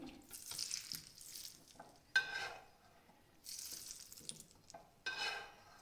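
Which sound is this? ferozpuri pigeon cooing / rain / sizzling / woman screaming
sizzling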